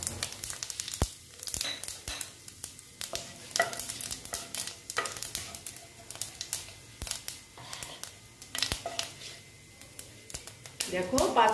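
Two dried red chillies and panch phoron spices frying in hot oil, with a soft crackling sizzle and repeated spatula stirring and scraping clicks, close and fairly quiet.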